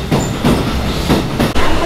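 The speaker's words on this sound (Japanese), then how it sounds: "電車がやってきたみたいです。" A Kintetsu Line train bound for Yamato-Saidaiji rolls into a station on the Hanshin network, its wheels clacking and rumbling loudly and close by in rhythmic bursts.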